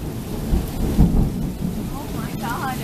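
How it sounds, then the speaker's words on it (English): Heavy thunder rumbling through a lightning storm, deep booming rolls swelling and fading across the clip, loud and continuous with rain in the background and no voices. "it basically turned into a big lightning storm"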